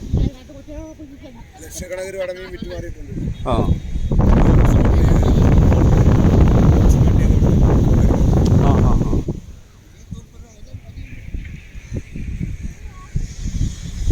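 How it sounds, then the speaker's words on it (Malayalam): A loud, steady rush of wind buffets the microphone for several seconds, with voices before and after the gust. "നല്ല ശക്തമായിട്ട് കാറ്റ് വീശി അടിക്കുന്നതേ"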